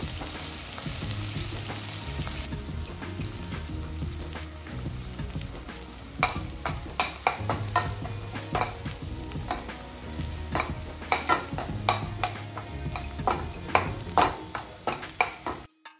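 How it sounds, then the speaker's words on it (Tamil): Onion, cumin and curry leaves stir-fry in a pan over medium-high flame, giving a continuous sizzle broken by frequent sharp scrapes and taps of the spoon, close up, with no voices. "இதை வந்து ஒரு 1 to 2 minutes வந்து மீடியம் டு ஹை ஃப்ளேமில் நல்லா டாஸ் பண்ணிக்கோங்க"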